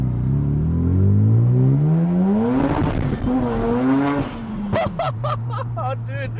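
Mazda FD RX-7 rotary engine revving up loudly and close, with a rising pitch that falls away, then a quick series of sharp whooshing bursts from an HKS blow-off valve, with voices talking over it.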